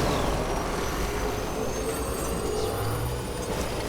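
A motorcycle ridden in the video game Death Stranding, a constant low engine rumble and road roar filling the whole stretch at steady loudness, with no talking.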